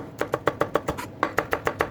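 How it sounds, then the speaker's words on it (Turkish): Quick, regular knife chops knock on a cutting board, chopping green pepper at about six strokes per second, with a short hitch midway. "Yeşil biberimizi doğrayalım."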